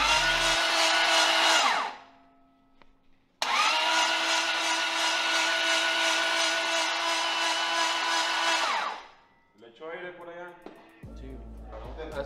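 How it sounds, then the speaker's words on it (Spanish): A Toyota 2JZ turbo engine in a Nissan Silvia spins on its starter with the spark plugs removed, giving a loud, even whirring crank that runs for about two seconds, stops, then runs again for about five. Softer clatter and low talk follow. "Se quitaron también las bujías para que gire más libremente el motor y la marcha no tenga que hacer tanto trabajo"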